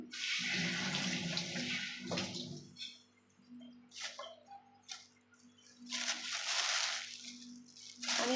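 Tap water running into a sink while vegetables are washed and sorted in a home kitchen, a strong splashing flow that drops away and returns in bursts, with quieter gaps between, no voices.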